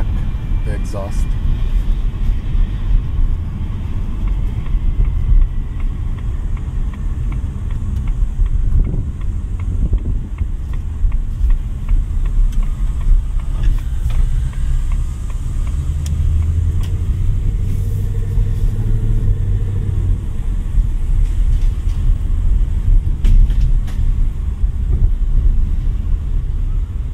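Ford Mustang GT exhaust in track mode rumbles low and steady inside the car on a drive, with wind and road noise around it and a person talking throughout.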